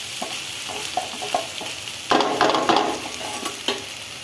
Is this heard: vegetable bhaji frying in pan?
yes